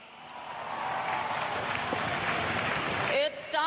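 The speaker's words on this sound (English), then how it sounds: "can I hear a huge round of applause?" A large crowd applauds at an air show on Chennai's Marina Beach, a dense rising wash of clapping and noise that swells and holds, ending with a voice over the crowd.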